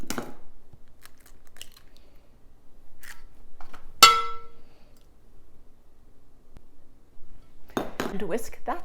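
Eggs are whisked into melted butter and brown sugar in a bowl, giving scattered light clinks and one sharp ringing tap of metal on the bowl, close and fairly quiet with gaps of near silence.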